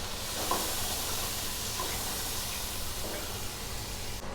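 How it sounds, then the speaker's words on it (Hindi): Chopped tomatoes fry in hot oil for a beef kofta curry, giving a steady close sizzle and hiss with faint stirring scrapes and no speech. "इसको फ्राई कर लें अच्छी तरह।"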